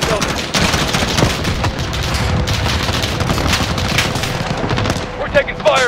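Gunfire in a Call of Duty: Modern Warfare compound assault rattles in dense, continuous bursts, loud and close, mixed with booms and scattered shots throughout, with no voices over it.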